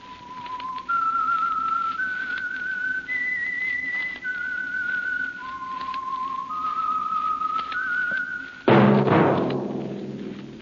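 A clear whistled melody of sustained, steady notes stepping up and down, the theme of the vintage radio drama The Whistler, followed by a sudden loud burst of noise near the end.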